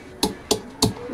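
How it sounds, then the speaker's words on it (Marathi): Garlic pounded and crushed by hand, three sharp, evenly spaced thuds in quick succession, close and distinct with quiet between strikes. "लसणाला आता हा टेचून घेते"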